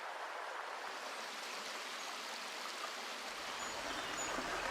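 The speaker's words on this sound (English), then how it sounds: "There is just enough water in the river for the dippers to feed." A shallow river with little water, flowing near limestone caverns, gives a steady, soft rushing hiss that runs unbroken throughout.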